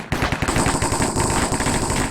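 P90 submachine gun fire in a cops-and-criminals video game: one close, loud, rapid automatic burst with evenly spaced shots running for about two seconds.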